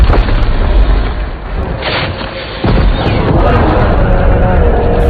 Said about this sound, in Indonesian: Pihak militer mulai menembaki troll dengan berbagai senjata yang mereka miliki.